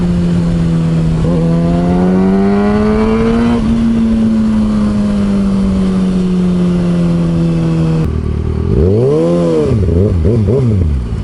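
A Kawasaki ZX6R motorcycle engine and exhaust, loud and close, holding a steady drone with a rise in pitch, then sharp revving blips near the end.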